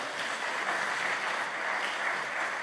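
Dense, steady clapping from a crowd at a Korean Presbyterian church general assembly officers' installation ceremony fills the whole short stretch, a continuous wash of applause without a break.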